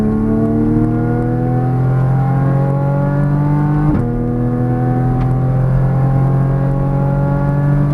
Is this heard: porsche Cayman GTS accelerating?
yes